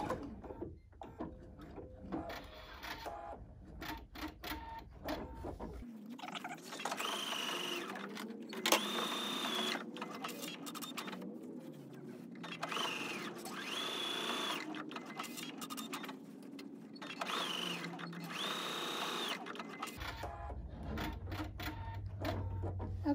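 A sewing machine stitches down the corners of a fabric wine bag, with back stitching at the start and end. The motor runs steadily in bursts with rhythmic needle clatter, close and moderately loud, with no voices.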